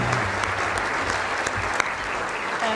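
Audience applause at a 2017 ethnic business awards ceremony, a steady dense wash of clapping filling the hall for the whole stretch without letting up.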